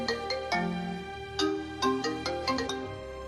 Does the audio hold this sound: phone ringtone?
yes